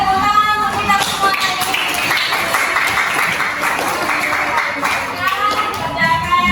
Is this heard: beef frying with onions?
no